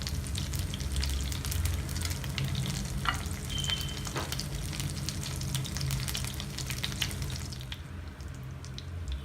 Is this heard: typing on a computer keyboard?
no